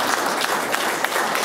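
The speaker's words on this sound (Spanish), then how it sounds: "Un aplauso para el señor padre." Guests at a marriage proposal gathering applaud the bride's father with a brief, dense burst of clapping that stays steady and fairly loud throughout.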